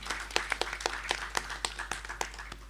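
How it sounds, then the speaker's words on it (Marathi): Audience applause at a Marathi stage reading: a thin, brisk patter of separate hand claps at a steady pace, fairly faint and fairly near. "अतिशय कुशल हात आणि सुरेल गळा असलेल्या लताताईंसाठी एकदा जोरदार टाळ्या."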